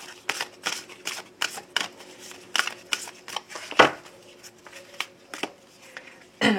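Tarot cards are shuffled during a card reading, making a close series of quick, crisp riffles and soft slaps in an irregular rhythm, with one louder snap midway and no talking over it.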